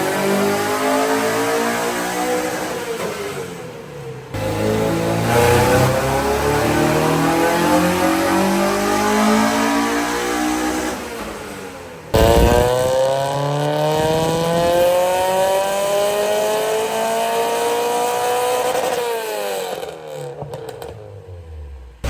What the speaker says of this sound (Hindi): अब गाड़ी का दूसरा रन बजने वाला है